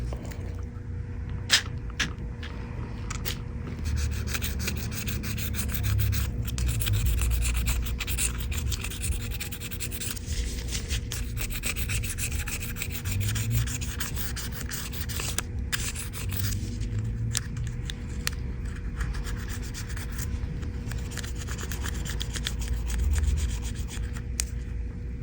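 A plastic razor scrapes oily grime off an iPhone in close, steady rubbing and scratching strokes that continue for about twenty-five seconds with a few sharper clicks.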